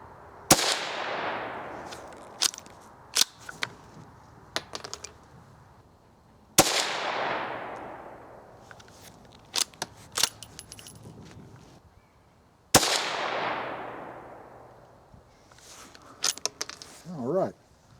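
Three loud, sharp gunshots from a Winchester Model 275 rifle at an outdoor range, spaced several seconds apart, each followed by a long echoing decay, with small clicks and handling noises in between.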